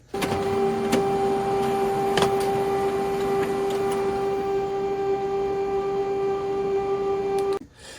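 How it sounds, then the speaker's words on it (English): An HP Color LaserJet Pro MFP M283 laser printer runs off a test page, a steady close mechanical whir with a sustained tonal whine and scattered clicks, ending abruptly after about seven seconds. "We'll print a test page with a variety of font sizes and colors to assess the printer's true performance."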